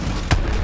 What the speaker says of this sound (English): that initial explosion to then is split into 2 more feels damn good to use and sounds absolutely incredible